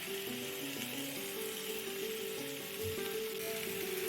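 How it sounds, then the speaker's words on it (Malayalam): Chicken pieces fry in butter for a chicken curry, giving a steady broadband sizzle that holds evenly throughout, close and fairly loud, with no talking. "ബട്ടർ ചേർത്ത് കൊടുക്കുക പിന്നെ അതിലേക്ക് നമ്മുടെ ചിക്കൻ പീസെല്ലാം ഫ്രൈ ചെയ്തെടുക്കണം"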